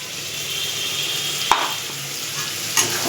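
Tomato paste with spices stir-fried in hot oil for a magur fish recipe, a steady soft sizzle running throughout with two sharp spatula scrapes against the pan, close and alone.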